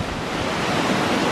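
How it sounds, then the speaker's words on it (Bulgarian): A waterfall rushing while hiking uphill: a steady, dense roar of falling water with some wind buffeting the microphone, fairly loud and unbroken, with no voices. "Еха, вижте водопада."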